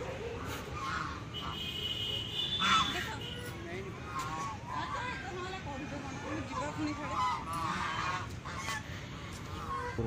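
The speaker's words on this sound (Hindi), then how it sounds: "ये देखो ये रही बतख, और ये भाग रही है।" Ducks quack and honk amid an outdoor crowd murmur, with people talking throughout and a steady background hum.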